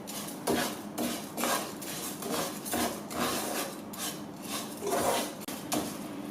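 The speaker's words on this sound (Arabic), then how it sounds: "وكنبقاو كنقليو فيه على هذا الشكل مزيان حتى يتقلى لنا هذا الخضر" Vegetables frying in butter in a pan for a restaurant-style seafood rice, stirred with a utensil: repeated scraping strokes against the pan at a steady rhythm over a continuous sizzle, close and moderately loud, with no talking.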